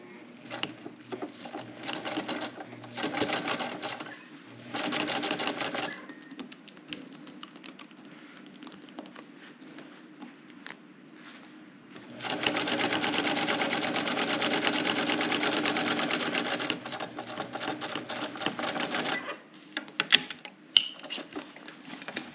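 A sewing machine stitches a quarter-inch seam on a fabric bunny, with back stitching at start and end; loud close bursts of rapid mechanical whirring alternate with quiet pauses, the longest run lasting several seconds.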